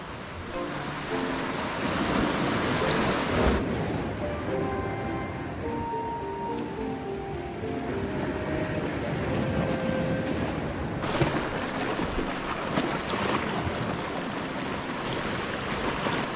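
Ocean surf and wind roll continuously along a desert island shore on a calm morning, a steady wash of noise with no voices.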